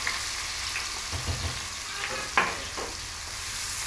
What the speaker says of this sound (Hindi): और जो प्याज है इसे हम गोल्डन ब्राउन करेंगे।